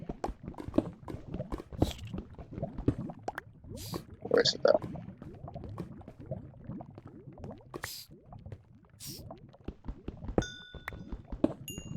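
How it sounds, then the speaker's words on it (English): Lava bubbles and pops softly in the Minecraft video game, a faint liquid gurgle of scattered drips and blips under frequent close talk from a player. "I hear some bubbling lava."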